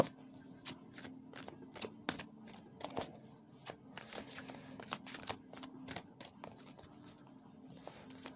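Oracle cards being cut and shuffled by hand, giving a series of close, crisp papery snaps and riffles in uneven bursts, with a faint steady hum underneath and no talk.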